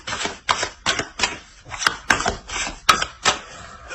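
Tarot cards being handled and laid out on a table, a series of crisp, close card slaps and shuffling taps at a quick, uneven rhythm, with no voice.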